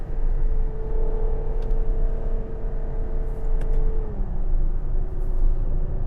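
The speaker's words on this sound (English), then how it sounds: "A bit of V12 raw there." Ferrari Purosangue V12 engine heard from inside the cabin while driving on an early-morning road, a loud, steady low rumble with a sustained tone that drops slightly in pitch partway through.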